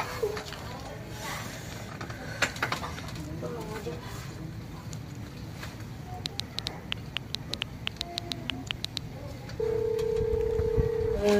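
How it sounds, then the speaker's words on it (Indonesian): Telephone keypad tones beep in a quick run of short pulses, then a steady tone holds, all over constant background noise in a room. "Telepon."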